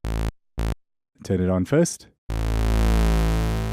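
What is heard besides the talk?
Minimoog Model D first and third oscillators, thin pulse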